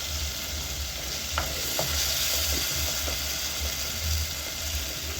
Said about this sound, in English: Then I'll cover for the tomatoes to cook